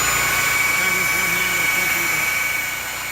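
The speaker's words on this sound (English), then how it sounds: "the belt sander here will be used just to sand everything smooth and flat" A belt sander running on a solid piece of wood during an A-frame cabin build, giving a loud, steady, high mechanical whine close by that eases off slightly near the end.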